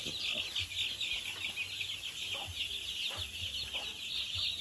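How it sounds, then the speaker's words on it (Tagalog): A flock of young chicks peeps in a dense, continuous high chatter, with scattered soft clucks from nearby fowl, at a farm during a mid-day watermelon snack. "Ito yung mga sisiyo natin."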